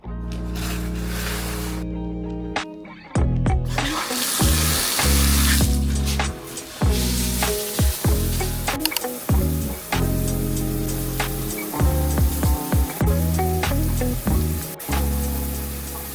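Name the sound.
shower running water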